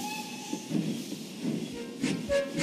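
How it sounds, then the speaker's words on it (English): A shunter locomotive pulls a train of trucks up to a junction, heard as a soft rolling rumble with faint hissing, quiet squeals and a few rhythmic clanks, with no voices. "Awesome shunter took his train up the junction."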